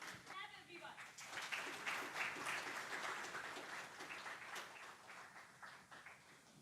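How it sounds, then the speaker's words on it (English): A crowd at a company bell-opening event breaks into sustained applause, many hands clapping together in a dense, even wash of sound that slowly tapers. "let's welcome him with a huge round of applause"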